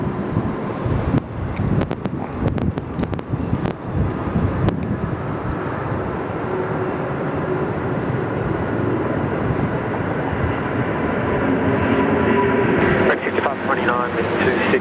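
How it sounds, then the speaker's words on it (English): A Thai Airways jet, flight 472 to Bangkok, powers down the runway at Sydney Airport, a loud, wide engine roar building steadily amid gusty wind buffeting, with people talking over it. "Thai 472 off to Bangkok."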